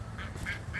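Ducks quack outdoors in a yard with dogs and chickens nearby, giving three quick nasal calls at a moderate distance over a steady low background hum.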